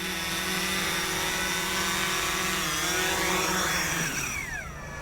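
A FIMI X8 Pro camera drone descends onto a landing pad, its steady whining rotor drone loud and close throughout, the pitch sliding downward near the end as the motors slow.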